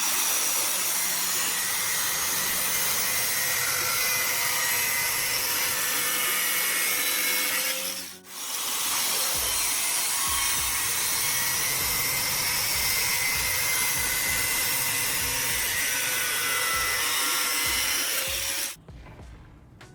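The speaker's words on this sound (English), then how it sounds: "follow the line with a cutting wheel until both pipes open cleanly" A cutting wheel grinds steadily through a pipe clamped in a vise, a loud continuous abrasive whine with a brief dip partway through before it cuts off near the end.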